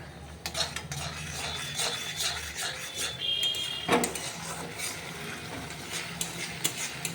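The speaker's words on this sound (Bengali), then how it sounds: "এটা একটু ভাজা ভাজা হোক।" Cabbage and fish head stir-fried in a pan, with soft irregular scraping and clinks of a spatula over a faint sizzle. The sound is fairly quiet and close, with one sharper knock midway and no talking.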